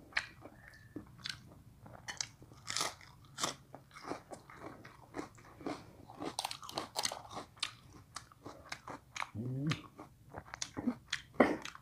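Crisp salad vegetables are eaten up close, with loud crunchy bites and chewing repeating in an irregular rhythm, with no talking.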